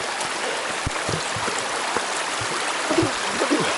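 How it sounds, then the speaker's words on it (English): Mountain stream near Skogafoss, Iceland, one of many feeding the waterfalls, rushes in a steady broadband wash, close and continuous, with a few small splashing gurgles near the end. "And we're across yet another stream."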